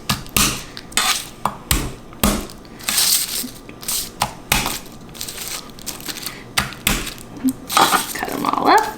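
Purple garlic cloves smashed one after another on a cutting board, a string of sharp, loud crushing thuds and cracks at an uneven rhythm, close up, with no talk.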